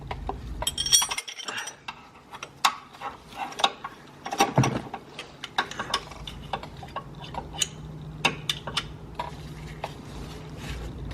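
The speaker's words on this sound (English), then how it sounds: "You need a size 15 wrench to release this one." A size 15 wrench works the belt tensioner on a Hyundai Sonata Hybrid, giving a run of close metallic ticks, clinks and ratcheting clicks with a brief heavier clunk partway through.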